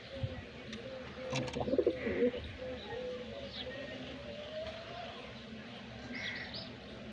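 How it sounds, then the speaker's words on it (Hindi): Pigeons coo in a steady low murmur throughout, with a faint voice and some chirps in the background. "મસ્ત કબૂતર સેટ પણ થઈ ગયા"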